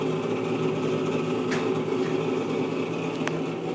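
A pellet stove runs steadily in a workshop beside a wood heater, its worn exhaust fan producing a constant whirring hum with a faint higher whine, no voices, just the even mechanical drone throughout.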